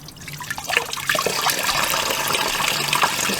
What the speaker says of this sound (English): This is the drain pan for the oil, the drain plug, and there's already water coming out of it